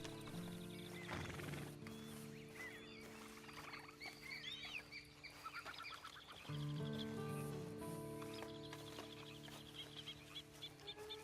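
A horse whinnies and neighs in Red Dead Redemption 2, with clip-clopping hooves and a few farmyard fowl calls mixed into a busy, fairly close game soundscape that carries on with only small pauses.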